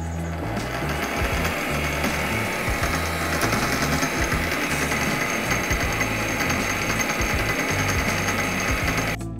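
A metal lathe motor driving the lead screw whirs steadily with a mechanical rattling hum, running continuously and fairly loud without any talking.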